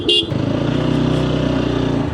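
A motorcycle idles and rolls slowly into a crowded spot, its steady low engine thrum close and continuous, with a brief high-pitched honk or beep right at the start and faint crowd noise underneath.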